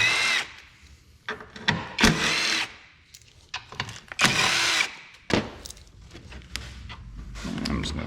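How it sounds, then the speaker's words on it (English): A power tool spins out 10mm bolts beneath a Toyota Camry during AC condenser replacement, giving loud, close bursts of whirring and ratcheting separated by short pauses, with clanks of metal between them. "So we're just going to go ahead and remove these 10mm bolts."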